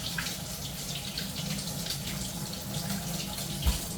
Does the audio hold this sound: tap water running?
yes